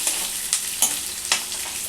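Onion and green chillies frying for Telangana-style popu annam, a short burst of steady sizzling broken by three or four quick scraping stirs of a spatula, close and without voices.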